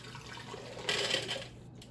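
Water poured into a container during a stream abrasion lab: a faint, quiet trickle that swells into a fuller splashing pour midway, then tapers off, near and soft.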